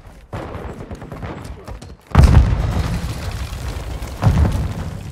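Grenade explosions in the Call of Duty: Modern Warfare II video game, two heavy booming blasts a couple of seconds apart over ongoing gunfire-like crackle, loud and close.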